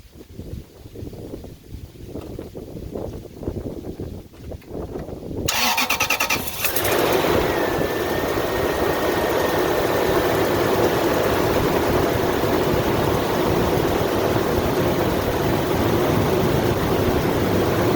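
A 2002 Toyota Sequoia 4.7L V8 engine, after an ignition coil pack replacement, cranks briefly, catches and roars, then settles into a loud, steady idle; quiet wind rumble comes before it.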